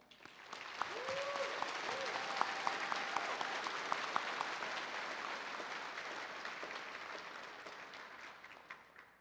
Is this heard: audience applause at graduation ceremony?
yes